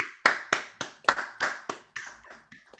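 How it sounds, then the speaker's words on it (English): A single pair of hands claps about ten times in a quick, slightly uneven rhythm for debate team members on a video call, close and dry, fading softer toward the end. "just give them a little round of applause."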